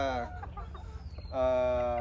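Hens cluck and call on a gamefowl farm, giving a short, drawn-out, tonal squawk up close, then a brief break, then a second sustained call.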